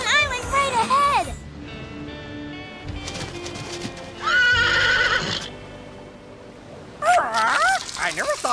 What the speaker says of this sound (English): I never saw no horse do that before.